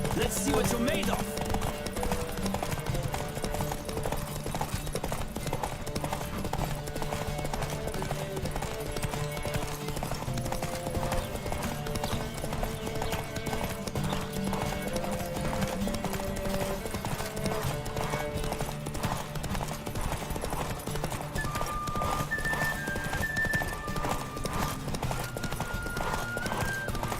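Rapid hoofbeats clatter continuously as several horses gallop in The Witcher 3: Wild Hunt, with a horse whinnying and soft game-like tones layered over the steady pounding rhythm.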